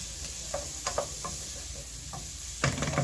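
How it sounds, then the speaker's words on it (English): Vegetables sauté in a pan for a matoke and beef stew, a soft steady sizzle broken by light stirring clicks and scrapes, with a louder burst of frying near the end, close and without talk. "we let them cook for another minute so that they saute properly"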